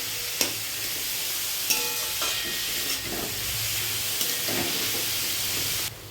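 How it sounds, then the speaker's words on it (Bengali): Grated papaya sautéed in oil and ghee in a pan with no added water, giving a continuous soft sizzle broken by a few sharp scrapes and taps of a spatula as it is stirred. "গ্রেট করা পেঁপেটা দিয়ে দিলাম, ভালো করে কষিয়ে নেব।"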